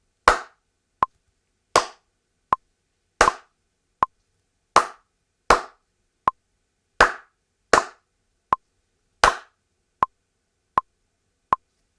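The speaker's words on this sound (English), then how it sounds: "I'm going to set the tempo of the metronome to 80 BPM, and let's clap through this piece together" Sharp, close hand claps tap out a rhythm pattern in time with a metronome ticking steadily at 80 beats per minute, alone in a quiet room with no talk.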